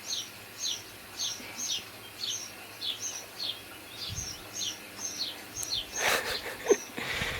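Outdoor birds give a regular series of short, bright chirps repeated about every half second. The chirps are moderately close, with a few soft thumps and rustles toward the end.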